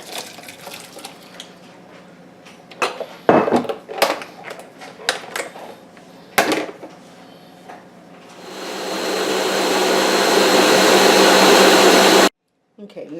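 A countertop blender whirs loudly and steadily while pureeing potato and leek soup, starting a few seconds after scattered clattering kitchen handling noises and cutting off abruptly; a voice speaks briefly early on.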